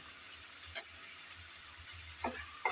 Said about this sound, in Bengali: লবণ আর হলুদ দিয়ে চিংড়ি ভালোভাবে ভেজে নেব